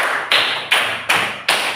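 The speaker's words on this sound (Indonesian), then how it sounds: "Tepuk 1, tepuk 2, tepuk 3, tepuk 4, tepuk 5," A classroom of pupils clapping hands together in a counted rhythm, five sharp loud unison claps evenly spaced and heard alone without talk.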